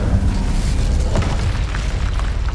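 Incendio fire spell blast in the video game Hogwarts Legacy, a loud, dense whooshing burst of flame and rumble that fills the whole moment, with no talk over it.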